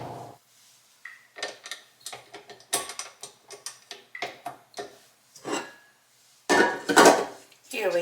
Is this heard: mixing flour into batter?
yes